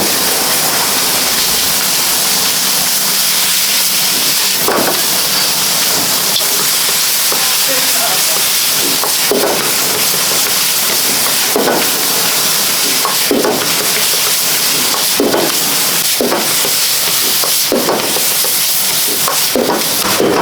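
Minced meat for mapo yakisoba fries in a pan at a Sendai restaurant kitchen, giving a loud continuous sizzling hiss with repeated scraping and stirring clatters, while a voice talks underneath.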